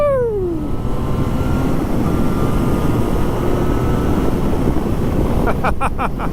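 Yamaha FZ-09 motorcycle engine cruising on the highway at about 100 km/h, a steady loud drone under heavy wind rush with a falling pitch early on, heard from the rider's position.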